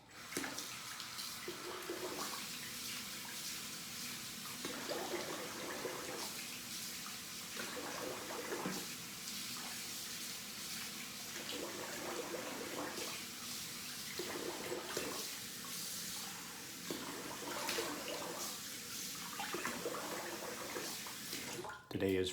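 Tap water runs steadily into a sink as someone rinses their face after a double-edge shave, a continuous hiss with soft rhythmic splashing swells from hands cupping water, close and constant throughout.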